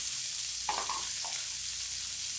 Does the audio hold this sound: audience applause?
no